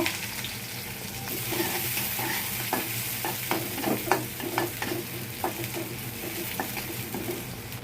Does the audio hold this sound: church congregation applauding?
no